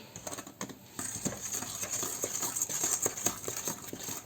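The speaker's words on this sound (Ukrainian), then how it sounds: "Розмішуємо тепер все." A spoon scrapes and taps around a bowl in quick, steady strokes, stirring a thick chocolate honey cake batter up close.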